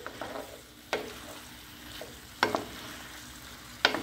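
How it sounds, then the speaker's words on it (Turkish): Green tomatoes and onions sauté in a pan, with a faint steady sizzle broken by a few sharp scrapes and stirs of a utensil against the pan. "Şöyle 1-3 dakika yeşil domateslerim soğan, malzemeler, diğer malzemelerle birlikte kavuruyorum."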